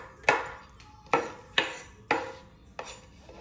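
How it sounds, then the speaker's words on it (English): A knife chops a handful of pecans on a cutting board for a fruit salad, giving five sharp, separate thunks spaced about half a second apart, close and fairly quiet. "Chopping up a handful of these pecans to put in"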